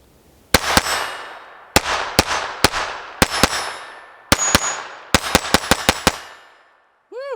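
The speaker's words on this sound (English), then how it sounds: "Let's see if it runs this Winchester 333 ammo." A KelTec P17 pistol fires Winchester 333 ammunition in a string of about fifteen sharp, loud shots, some paired and a rapid burst near the end, each ringing out briefly with no talking.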